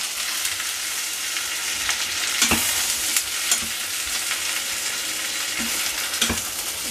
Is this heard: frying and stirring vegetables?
yes